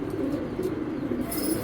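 Racing pigeons coo softly and steadily at close range, a low murmuring warble running continuously with no talk over it.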